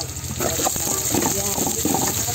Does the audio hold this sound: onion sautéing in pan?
yes